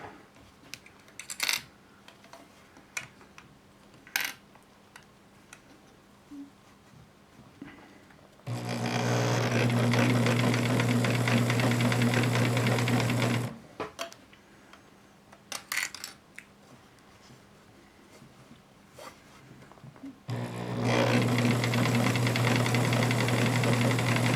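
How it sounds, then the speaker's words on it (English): A Bernina Record 830 sewing machine stitches a zippered pouch at its lowest speed, a steady close mechanical whir in two sustained bursts separated by quiet pauses with light handling clicks. "I'm sewing this on the minimum speed here"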